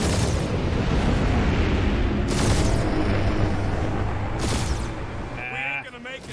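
Bombs blow up in the Guardians of the Galaxy video game with dense, rumbling blasts and sharp explosive bursts throughout, while characters shout over the chaos.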